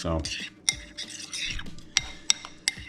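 A utensil clinks and scrapes against a bowl while stirring chaffle batter with turkey-dinner seasonings, giving sharp taps at an irregular rhythm over soft rubbing.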